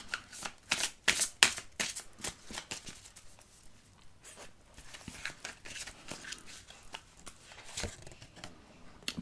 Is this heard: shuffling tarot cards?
yes